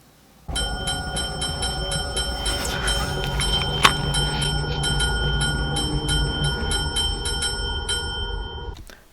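A small bell rings repeatedly in a steady, evenly spaced series, loud and close over a constant background hum, with no talking.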